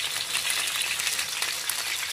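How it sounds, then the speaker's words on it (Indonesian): Fish fillet frying in a pan of hot oil, a steady dense sizzle with continuous crackling that holds at an even level throughout, no voices. "Goreng perlahan nanti sampai kecoklatan ya atau kuning keemasan."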